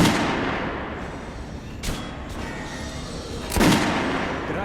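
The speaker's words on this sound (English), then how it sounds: "Head over to my range and try out those guns." Gunfire at a shooting range in Metro: Last Light Redux, with a sustained booming wash and two sharp, loud shots standing out about two seconds apart.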